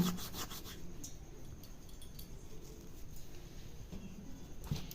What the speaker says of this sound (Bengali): তো কালো জিরেটাকে হাত দিয়ে একটু ঘষে নিতে হবে।